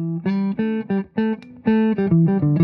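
Clean electric guitar through a clean boost pedal plays a short run of distinct picked notes, bright and fairly loud, with brief gaps between phrases.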